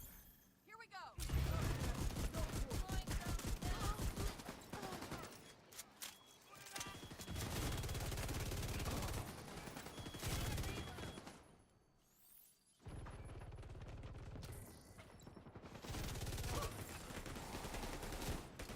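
Enemy NPC gunfire in The Division 2 as steady, rapid automatic fire, loud and sustained in long bursts with brief pauses, heavy and continuous through most of the stretch.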